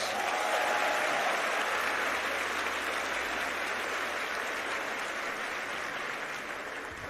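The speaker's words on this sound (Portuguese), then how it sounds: "Aplauda esse Deus maravilhoso." A church congregation applauds during a sermon, a soft, even rush of many hands that sounds distant and fairly faint, holding steady before gradually tapering off toward the end.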